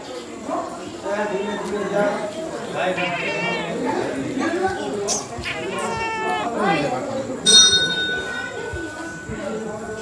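A cat meows several times amid people chatting nearby, with a bell-like ring cutting through briefly.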